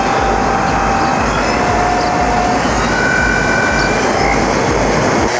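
Motors of a Pixhawk-controlled drone spinning at throttle, a loud, steady, close whir and roar with faint tonal whines above it, sustained without a break and with no voices.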